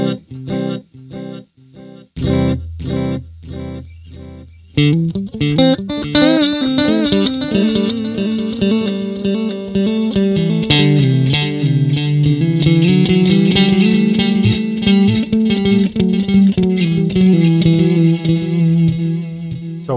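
Reverberry effects pedal on its delay 2 setting, processing a plucked guitar part: sharp picked notes at first, then a dense wash of repeating echoes that build into a sustained, shimmering tail throughout.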